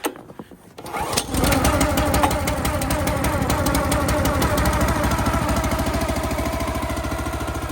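A Honda engine on a SplitForce SF-9 towable log splitter cranks after a few quiet handling clicks, catches and then runs steadily and loudly with a rapid, even chugging idle.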